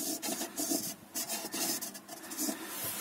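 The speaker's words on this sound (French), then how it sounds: "je vais faire le reste à la scie sauteuse" Jigsaw cutting through a wooden panel during a camper van heater installation, a steady close rasping buzz with brief pauses and shifts in pitch, no talk.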